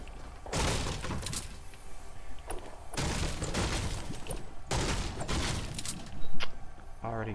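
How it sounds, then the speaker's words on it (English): Fortnite gunfire erupts in several loud, rattling bursts, separated by short quieter gaps. "Already gunshots."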